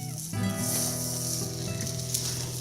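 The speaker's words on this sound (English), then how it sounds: "let's cook it on the side because you wanna get all the sides cooked inside. And it's flaring up because there's the fat on that side" A Tuscan Maremma-style steak sears on its fatty side with a continuous loud sizzle and hiss as the fat flares, with no talking.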